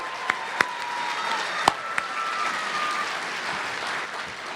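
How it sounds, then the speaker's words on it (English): Applause from the audience at an evening special presentation event, a moderate, steady wash of clapping with a few sharp, louder individual claps standing out near the start. "he deserves one more round of applause"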